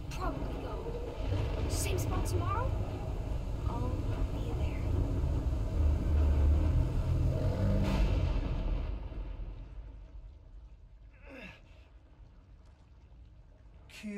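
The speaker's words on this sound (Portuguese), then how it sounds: "Uma tempestade chegando." A low, steady rumble of an approaching storm in the horror video game The Medium rolls on for about ten seconds, then fades to quieter ambience with faint sweeping tones near the end.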